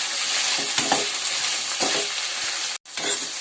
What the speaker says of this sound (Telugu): చికెన్ కూడా నూనెలో బాగా ఫ్రై అయ్యేదాకా వేద్దాము